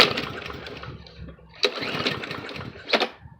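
A Briggs & Stratton lawn mower engine sputters and fails to start, giving short uneven bursts of coughing and cranking between rough rumbling, heard up close.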